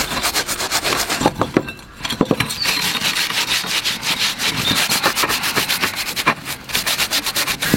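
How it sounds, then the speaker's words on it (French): A paper towel scrubs coarse salt across a rusty steel plancha, giving loud, gritty back-and-forth rasping strokes in a quick irregular rhythm. "on frotte bien partout pour enlever"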